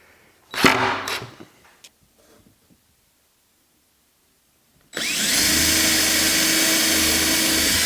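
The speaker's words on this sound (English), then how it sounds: "I'm just going to drive a couple of long screws in there to hold it in place" A power drill drives long screws into a wooden sled rack drawer: a short burst of whirring and clatter, a few faint knocks, then near-silence before a loud, continuous high-pitched run of the drill that lasts to the end.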